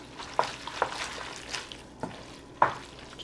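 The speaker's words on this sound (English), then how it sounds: "Give that a stir." Milk being stirred into a tuna casserole mixture in a pot, with a few distinct spoon knocks and scrapes against the pot spaced irregularly over a soft background, close and moderately loud, no talking.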